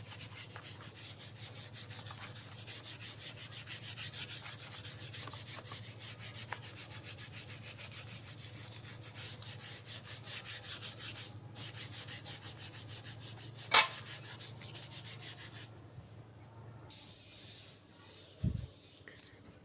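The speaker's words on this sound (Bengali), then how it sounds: "ওইভাবে ঘষে একদম পরিষ্কার করে নিয়ে আসছি।" Close, steady scraping and rubbing as a pangas fish is scrubbed clean by hand, running continuously and fairly quietly with a brief sharp knock near the end.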